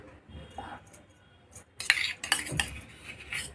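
A metal spoon adds ghee to a thickening rice halwa with cardamom and nutmeg, giving a few close clinks and scrapes against the pan, louder in the second half, with no voices.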